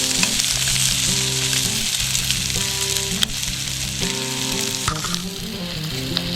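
Onions and zucchini fry in a pan at a camping trip cookout, giving a steady, close sizzle with occasional stirring scrapes throughout and no voices.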